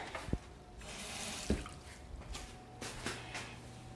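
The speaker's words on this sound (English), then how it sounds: "And so I'm going to add a little bit of water." Water pours from a tap into a bowl of thick, pasty healthy brownie batter, making a faint, steady splashing wash with a couple of soft knocks and wet squishes, close by and fairly quiet.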